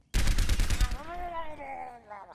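Rapid burst of automatic gunfire hitting a Murloc in the Overwatch video game, a dense rattling volley lasting about a second, followed by a warbling, gurgling creature cry.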